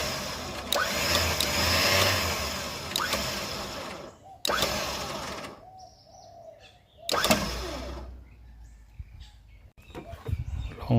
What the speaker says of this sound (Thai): สังเกตฟังเสียงวินมีอะไรผิดปกติหรือเปล่านะครับ เก็บวิน